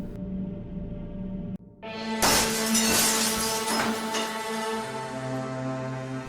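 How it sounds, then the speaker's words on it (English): A sudden loud crash of glass shattering, followed by a bright tinkling spray of fragments that slowly fades, with a low hum underneath. "when I heard a shatter"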